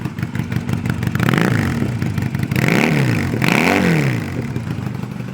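A motorcycle fitted with aftermarket exhaust pipes revs repeatedly with a deep, throaty, aggressive exhaust, rising and falling in pitch close by, with no talking.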